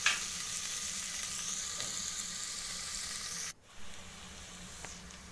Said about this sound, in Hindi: प्याज को हम अच्छी तरह से लाल होने तक इसे कुक करेंगे। मैं इसे अच्छी तरह से चला लेती हूँ।